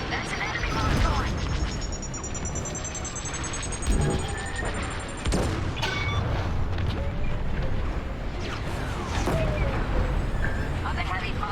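Heavy weapons fire in the Star Wars: Squadrons space-combat game, a dense, continuous roar of blasts and rumbling impacts with rising warning tones above, steady and loud throughout with several sharper bursts.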